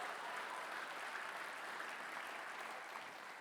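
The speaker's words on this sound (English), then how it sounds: "Give them another big round of applause" Faint, distant applause fills a hall for a children's dance group at a 40th anniversary show. The clapping is continuous and even throughout, with no voices.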